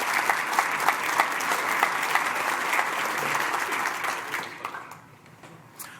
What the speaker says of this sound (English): Oh, applaud. Give them something.